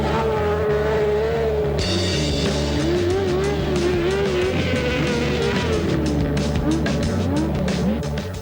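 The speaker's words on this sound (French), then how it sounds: "Cet engin, c'est un cross-car ou kart cross." A high-revving 600 cc cross-car engine whines and climbs, its pitch rising and falling through gear changes as the car races past up close, loud and continuous.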